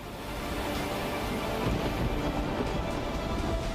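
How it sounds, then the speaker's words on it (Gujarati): Dense, steady roar of heavy monsoon rain pouring down in Nadiad, Gujarat, flooding streets, a continuous broadband wash with a low rumble beneath, no voices. "નડિયાદમાં ભારે વરસાદને કારણે અનેક વિસ્તારો જળમગ્ન થઈ ગયા"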